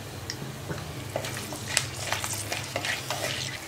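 Dried red chillies and whole spices frying in hot oil for tempering, a soft, constant sizzle with scattered light crackles and stirring scrapes, close and fairly quiet, without talk.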